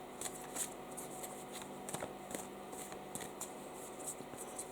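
Tarot cards being shuffled thoroughly by hand, a steady run of soft riffling and flicking bursts with occasional sharper snaps, close up and without talk.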